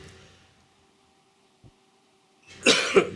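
A short, harsh cough bursts out near the end after a quiet stretch with a faint hum, close to the microphone.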